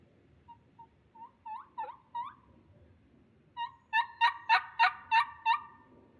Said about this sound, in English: There's a turkey over there, I think. That sounds just like one rattling off a couple hollers over.